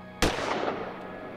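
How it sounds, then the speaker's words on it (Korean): A single sharp gunshot cracks loudly and close, followed by a rumbling echo that fades over about a second. "총소리를 듣고 올라온 마릴리아, 그녀도 벨라의 총을 피할 수는 없었습니다"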